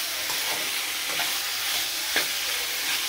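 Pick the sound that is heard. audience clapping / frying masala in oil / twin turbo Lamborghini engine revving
frying masala in oil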